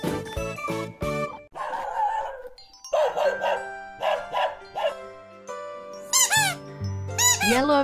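A toy plays a chain of electronic sounds: chimes, jingles and a short synthesized dog bark among squeaky tones.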